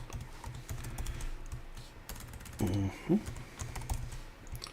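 Soft keystrokes on a computer keyboard tap irregularly at low volume, with a couple of louder clunks partway through and no speech.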